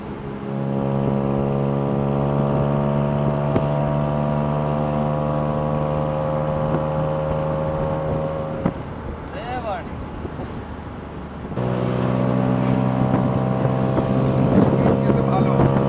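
A tuk-tuk's small engine drones at a steady high pitch at about 80 km/h with strong wind rush, briefly dipping and then returning to the same hard, constant whine.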